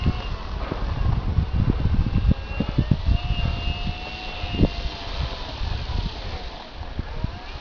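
An FMS Pitts Special RC model biplane drones overhead with a steady engine whine that swells and fades as it passes, over constant wind noise.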